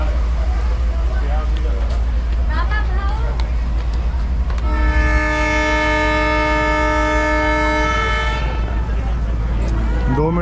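A Mohenjo-Daro passenger train leaving Sind University railway station blasts a loud, sustained multi-tone horn of about four seconds over continuous rumbling wheel and engine noise, with shorter squeals before it.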